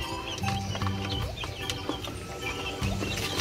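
Small chicks feeding together, giving high repeated peeps and chirps with soft pecking and shuffling close by, steady and lively throughout without talk.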